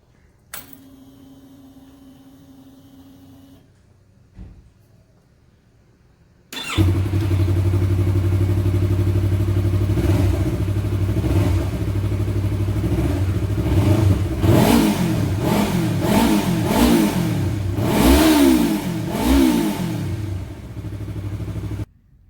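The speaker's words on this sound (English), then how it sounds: "So now we're gonna fire it up and see what sort of reaction it gets." 2018 Yamaha R3 motorcycle with an R6 throttle tube mod, quiet background at first, then the engine starts and idles loudly before a series of sharp revs rising and falling close by, without speech.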